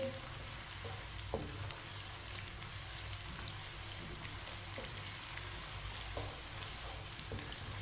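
Chopped onion with whole cumin and coriander seeds frying in a pan, giving a steady, dense sizzle throughout with a few soft stirring knocks.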